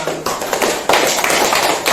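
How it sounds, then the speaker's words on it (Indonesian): A classroom group gives applause for a presenting team, a few hands clapping in loud uneven bursts close by, short and lively with no talk. "tepuk tangan untuk kelompok 5"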